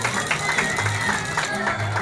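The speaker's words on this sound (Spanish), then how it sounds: "Fuerte, fuerte aplauso para Loretta Sánchez." Crowd at a Fiestas Patrias street parade applauding for Loretta Sánchez, steady clapping mixed with cheering and a voice over a loudspeaker.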